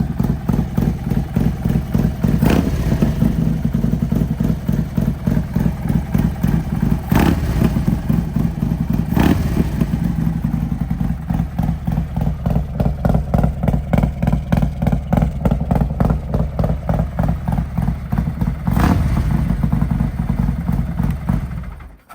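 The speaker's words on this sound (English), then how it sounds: "exhaust and the cam should be the only thing that's making a bunch of the racket" A 170 HP Harley-Davidson Road King with a built engine, cam and exhaust runs loud and close, its steady lumpy idle clattering with brief throttle blips and no voices.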